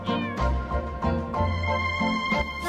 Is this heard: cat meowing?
yes